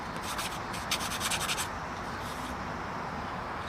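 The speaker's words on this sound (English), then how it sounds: "So I'm taking sandpaper and just polishing the tops off to get that" Sandpaper polishing the damaged tops of steel screw heads on an Elna Supermatic sewing machine makes close, quick rhythmic rubbing strokes in a steady scratchy run. The strokes are brighter in the first half, with no talk.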